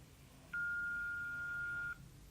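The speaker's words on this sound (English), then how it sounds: "Please leave your message after the beep." A single steady electronic beep, clear and close, holds for about a second and a half on a phone voicemail line, with a faint hum before and after and no keypad tones evident.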